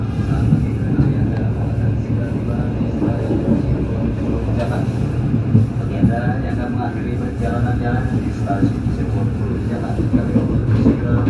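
The Airlangga passenger train on the Jakarta–Surabaya line rumbles with a steady, loud, continuous roll heard from inside, the low drone holding throughout with faint clatter above it.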